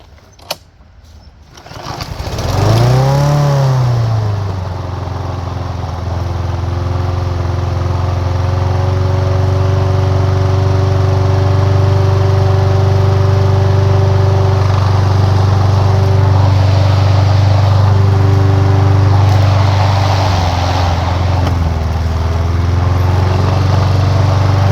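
A TB 110 lawn mower's engine fires up after a carburetor replacement, a brief pull-start rattle then a loud, steady, close running drone that holds through to the end, no talk.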